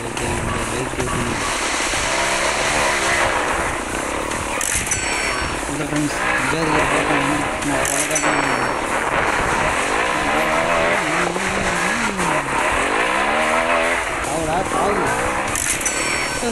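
A motorcycle in a bike racing video game revs and drones steadily throughout, with occasional tire-squeal-like accents, while someone talks continuously over it.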